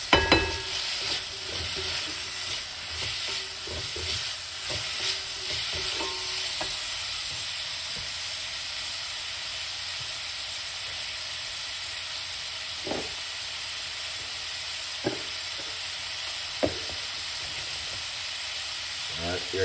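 Vegetables and mushrooms stir-fried in a pot give a steady hiss and sizzle, with occasional clacks of stirring, close and fairly quiet with no one talking.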